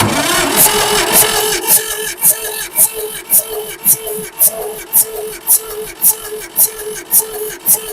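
A 1962 Massey-Ferguson tractor engine runs steadily at half throttle, a continuous mid-pitched drone with regular rhythmic pulses, close and loud.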